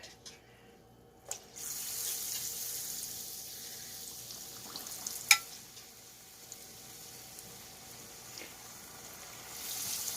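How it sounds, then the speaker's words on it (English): Kielbasa corndog bites dropped into hot oil in a small saucepan give a faint, steady hiss and sizzle, with a few brief sharp pops and splashes scattered through it. "I'm going to start dropping these in the oil"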